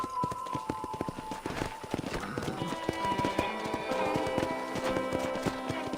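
Horse hooves clip-clopping in the video game Red Dead Redemption, a steady run of close, crisp hoofbeats at a brisk pace, with faint game sounds underneath.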